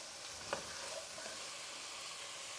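Garlic frying with chopped vegetables in a soup pot over medium-high heat, a steady faint sizzle with one brief stirring knock near the start.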